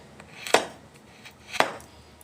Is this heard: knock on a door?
no